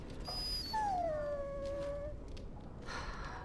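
A dog in the Dragon Age: Origins video game lets out a long, high whine that slides down and trails off, with faint whimpers around it over a low background hiss.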